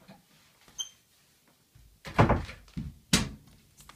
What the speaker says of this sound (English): I just had to close the door.